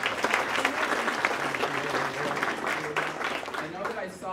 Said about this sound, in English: How about a round of applause for them as well.